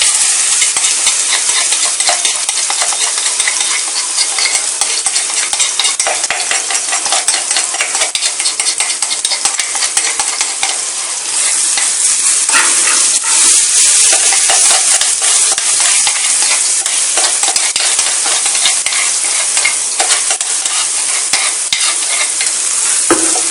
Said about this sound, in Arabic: بعد ما يسخنوا هنزل عليهم بالتومة على طول.